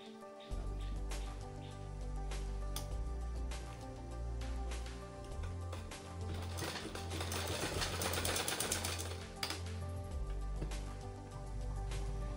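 Sewing machine stitching a front pocket, a fast steady mechanical chatter with a low hum, running close and continuously for about twelve seconds with slight pauses and speed changes.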